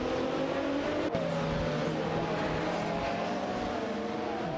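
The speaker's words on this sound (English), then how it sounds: "Sputnik NZ is piloting a McLaren F1 GTR, while 1 Serious Guy and RA Raphael are behind the wheel of a Jaguar XJ220" Racing car engines in a video game race, a McLaren F1 GTR and a Jaguar XJ220 among them, give a steady droning whine with shifting pitch as cars pass, moderately faint, with a sharp click near the start.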